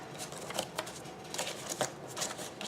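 Paper being folded and handled for a small paper handbag, quick crisp rustles and creases in a brisk irregular rhythm, close and fairly quiet.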